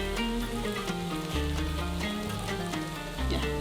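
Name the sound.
Lebanese kefta sizzling on a high-heat grill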